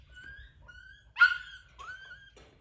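A dog whines and yips in short high-pitched bursts, with one sharper bark in the middle, close by against a quiet background.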